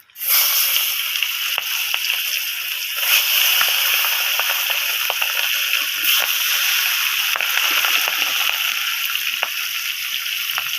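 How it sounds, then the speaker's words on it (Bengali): Thick turmeric-coated fish steaks frying in hot oil for a Bengali fish curry, a steady loud sizzle with crackling pops throughout, close and without talk. "এবার মাছগুলোকে আমি এক এক করে ভেজে নেব।"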